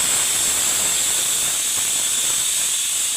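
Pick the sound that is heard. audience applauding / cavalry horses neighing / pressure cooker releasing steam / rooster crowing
pressure cooker releasing steam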